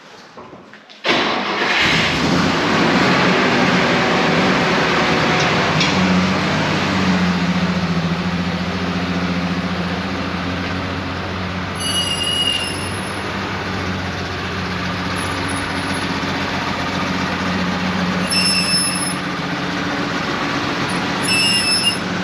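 A 1975 Volvo C304 6x6 military truck engine idles loudly and steadily after a sudden start, with a deep rumbling drone and occasional faint high squeals.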